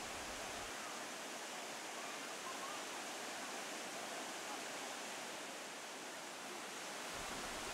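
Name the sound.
artificial waterfall in the Dniester canyon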